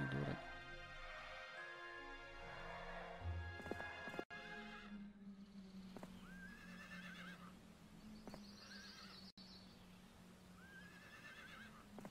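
Horses in the Heroes of Might and Magic III strategy game whinny several times over clip-clopping hooves and a low sustained musical drone, the game sounds clear and close.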